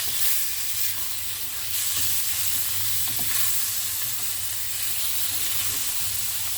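Vegetables and lean meat being stirred in a hot pan, a steady close sizzling hiss with soft spatula scrapes and a couple of light knocks against the pan.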